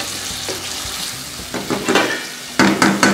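Fresh tomatoes cook down in oil in a pot, giving a steady close sizzle and crackle with a few stirring scrapes and louder bursts toward the end.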